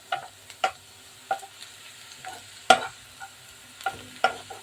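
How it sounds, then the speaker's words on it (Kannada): Onions fry in a pan until brown under a faint sizzle, with sharp spatula scrapes and clacks striking every half second or so, close by. "प्याज को ब्राउन होने तक पका लीजिए"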